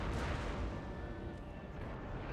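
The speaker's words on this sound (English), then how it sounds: "His howitzer I believe, is still shooting into the city, getting shots and supporting his troops there." Howitzer artillery firing into a city during a Napoleonic-era battle in Napoleon: Total War, heard as a dense, continuous roar of booming cannon fire, loud and rumbling throughout.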